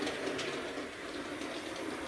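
A Hornby West Country class model steam locomotive runs along model railway track, giving a steady mechanical whir and faint rolling rattle of wheels at close range, continuous for the short moment with no talk.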